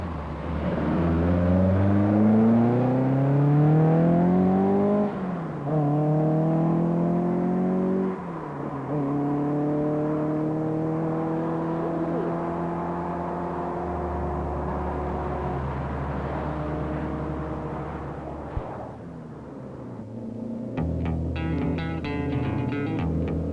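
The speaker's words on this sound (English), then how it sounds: "Simo Lampinen, RAC rally winner in 1968, is once again driving a Saab" Rally cars, a Saab and a Toyota, on a stage of the 1973 RAC Rally. A steady engine drone rises through the gears with clear shifts, the pitch climbing and dropping as the car accelerates, loud and sustained, and fades near the end.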